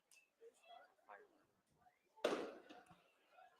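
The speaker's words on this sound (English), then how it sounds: "Some fireworks going off in the distance." A sharp firework bang in the distance during a Newark Pilots vs. Geneva Red Wings baseball game, one sudden burst followed by a short decay under faint talk and crowd murmur.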